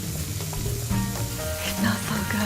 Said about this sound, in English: the sizzle of the bacon